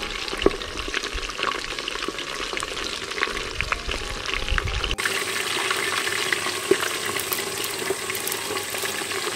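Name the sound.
deep-frying Reeves' turtle meat over a Swedish torch fire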